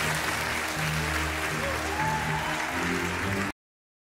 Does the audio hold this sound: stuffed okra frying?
no